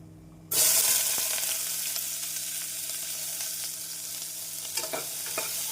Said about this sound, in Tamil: அந்த வெங்காயம் சேர்த்து ஒரு நிமிடம் நன்றாக வதக்க வேண்டும்